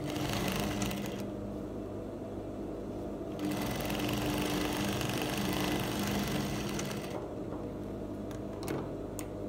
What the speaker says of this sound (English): And I'll sew it down. I'll top stitch it by half an inch.